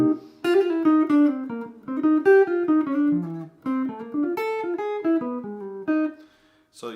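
A jazz guitar plays a quick melodic phrase in rapid sixteenth-note triplets, bright plucked notes tumbling in bursts with brief pauses between runs.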